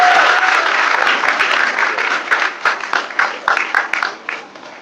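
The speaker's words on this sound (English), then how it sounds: "Please give her a big round of applause." Audience applause at a Bollywood song launch event, a dense burst of many hands clapping that starts full and gradually thins into scattered claps over a few seconds.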